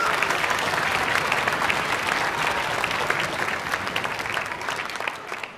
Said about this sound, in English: Can we have one big round of applause for all our performers?